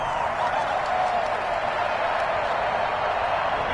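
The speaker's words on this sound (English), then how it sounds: "Crowd getting in it a bit already." A stadium crowd cheers in an American football video game, a dense, continuous roar of many voices at steady loudness throughout.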